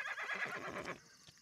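A horse whinnies in a long, shaky descending neigh lasting about a second, fairly close, then trails off into quiet with a faint soft thump.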